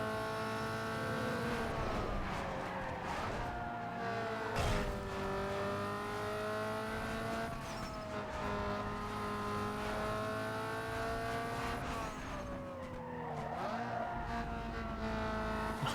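Inline-four racing car in Need for Speed Underground 2, its engine droning and revving steadily with shifting pitch, close and continuous, with a brief tire screech near the end.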